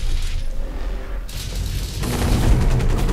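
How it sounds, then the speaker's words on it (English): Heavy mech combat in the video game Hawken: a rocket is shot out of the air amid booming blasts and rumbling explosions, loud and sustained, growing denser toward the end. "did I just shoot that rocket out of the air?"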